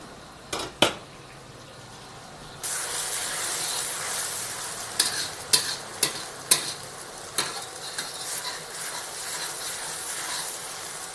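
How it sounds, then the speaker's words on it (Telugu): Onion paste fries in hot oil in a pan for a fish curry, giving a steady sizzle punctuated by several sharp scraping clicks from a utensil stirring against the pan, heard close with no talk. "ఇప్పుడు ఉల్లిగడ్డ మంచిగా వేగింది."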